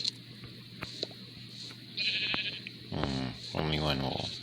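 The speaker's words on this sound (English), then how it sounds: "And there should be another sheep in here. Yes, there it is." Sheep bleating in Minecraft Bedrock Edition, two short wavering bleats close together near the end, over a faint steady game hum and soft clicks, with no one talking.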